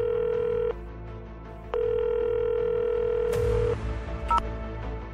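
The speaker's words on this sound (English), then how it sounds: "So I called Efua" A landline telephone handset gives a steady dial tone that breaks off, resumes, then gives way to a few quick keypad beeps and handling clicks, close and clear, with no voices.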